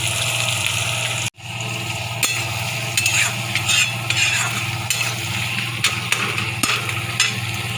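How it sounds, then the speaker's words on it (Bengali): Onion and green chillies frying in a pan for a crab and potato curry, a steady loud sizzle with repeated scraping stir strokes and a brief break near the start. "একটু লাল করে ভেজে নেব"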